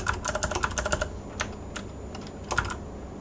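Computer keyboard typed on while entering code, with quick clusters of close, crisp key clicks, a short pause, then a few more taps and a final burst, no voices.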